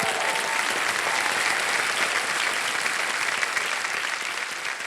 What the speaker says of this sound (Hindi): बहुत बहुत बधाई, तालियां बज जाएं इनके लिए